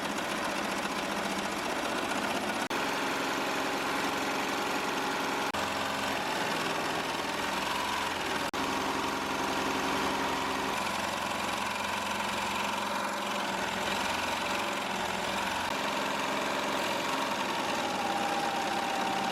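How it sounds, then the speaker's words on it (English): A Melco Summit embroidery machine stitches a sweatshirt design with a steady, continuous mechanical whirr and rapid needle chatter, close and loud throughout with no talking. "You can see exactly where the design is stitching at and what stitches you're currently at out of all of your total stitches."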